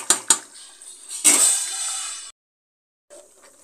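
A metal spoon stirs mutton dum biryani rice inside a pressure cooker pot, opening with two sharp clanks, then a longer stretch of close scraping and clinking, a brief silence, and a faint final scrape. No one speaks.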